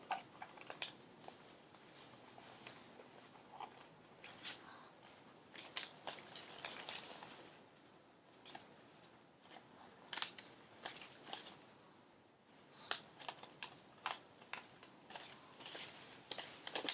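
Scissors snip through a plastic bag in a long run of crisp, close cuts, steady and repeated with brief pauses, quiet and alone.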